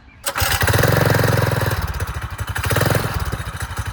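A Megamoto 212 minibike with a 12-horsepower 212 engine is pulled to start, catches, and runs with a loud, close, choppy putter that rises and dips as the throttle is blipped.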